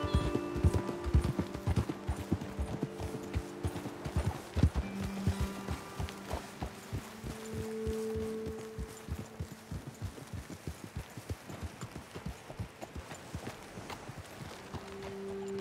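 Horse hooves clip-clop steadily in Red Dead Redemption 2 as the riders' mounts walk along, a close, even rhythm of many hoof strikes with a few faint low tones beneath.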